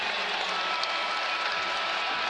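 Basketball arena crowd during an NCAA men's college game, a steady broadband roar of cheering and applause with no clear breaks, loud and continuous throughout.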